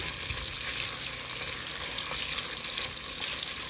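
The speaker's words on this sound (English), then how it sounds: "You're going to stir them." Onions stirred in a hot pan to caramelize, a steady close sizzle with soft scraping running throughout.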